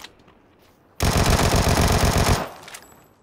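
Automatic weapon fire in the video game PUBG, played without a compensator: one loud, close burst of rapid shots lasting about a second and a half, then a short fading tail, with no talk.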